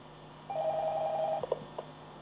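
Telephone ringing in the Five Nights at Freddy's game, a steady electronic ring lasting about a second, followed by a few short clicks, then quiet room tone.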